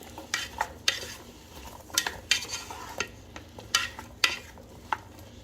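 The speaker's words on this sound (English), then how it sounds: "So now let's check in on our sweet potatoes. This is cooking very nicely." Sweet potatoes for a chickpea chili cook in a pan, a spoon stirring in irregular scrapes and clinks over a soft, steady sizzle.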